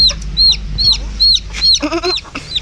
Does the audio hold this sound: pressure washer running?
no